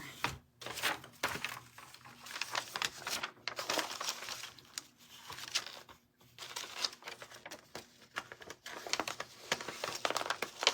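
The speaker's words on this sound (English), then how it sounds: "Paper cutter in here." A paper cutter slices paper for a whimsical gingerbread man sign, with a close run of crisp, irregular scraping, crinkling and clicking bursts separated by short pauses, with no talking.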